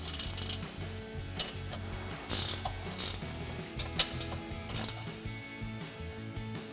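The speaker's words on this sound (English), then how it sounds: "you can tighten that back down with the 17mm ratcheting wrench" A 17mm ratcheting wrench tightens a bolt on a Toyota Tundra light bar bracket, giving steady rapid clicking with a few sharper metallic knocks, close and continuous with no talk.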